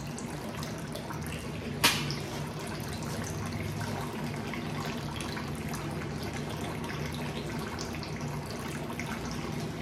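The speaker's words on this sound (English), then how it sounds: "We'll let that drain for a minute" Transmission fluid draining steadily from a brand new transmission, a constant liquid trickle and splash that runs unbroken throughout, with one sharp click near the start and no talking.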